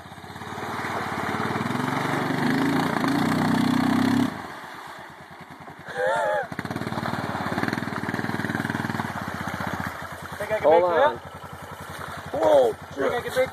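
A Honda engine runs after starting, first as a loud, steady mechanical drone, then dropping to a quieter idle chug while people talk over it.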